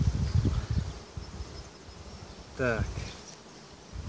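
Honeybees hum faintly under rustling and handling noises while a swarm is caught, with a brief voice and a louder buzzing pass near the end.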